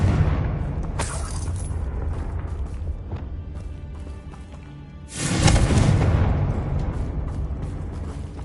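A Confringo fire spell detonates in Hogwarts Legacy, heard as a loud booming blast with a burst of crackling debris near the end, after a smaller impact early on, over a steady game rumble.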